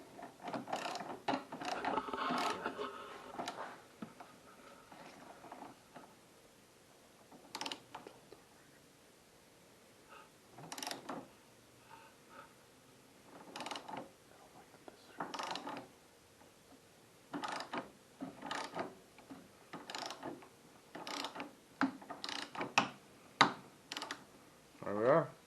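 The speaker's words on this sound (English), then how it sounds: "Torque this sucker up." Torque wrench ratcheting on a bolt while fitting a support to a 2015 Ski-doo snowmobile suspension: quiet, close clicks in irregular bursts, with no talking.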